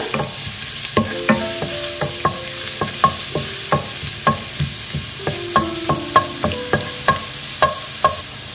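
Chopped garlic and ginger stir-fried in a pan for prawn Manchurian: a steady sizzle runs throughout while a spatula scrapes and clinks against the pan in a regular rhythm, close and clear, with no talking.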